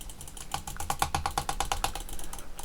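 Rapid run of sharp mechanical clicks from a computer mouse during a game, about a dozen close, dry taps in quick succession, with no talking.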